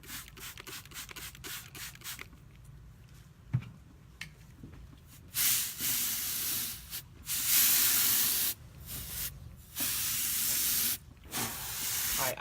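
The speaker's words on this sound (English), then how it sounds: "I'm gonna spray and you spritz" Paint is sprayed and spritzed onto doll furniture in bursts: several long, loud hissing blasts, each lasting a second or two, alternate with quieter rubbing and a faint background hiss.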